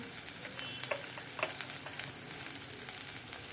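Curry leaves hit hot oil while tempering a Gujarati sweet-and-sour kadhi, giving a steady, quiet sizzle with scattered sharp crackles and pops throughout.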